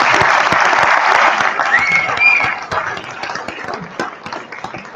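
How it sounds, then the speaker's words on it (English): An audience claps for a speaker at a gubernatorial candidate environmental debate, a fairly close, lively burst of applause that gradually thins and fades into scattered claps and faint room murmur. "give her a big round of applause."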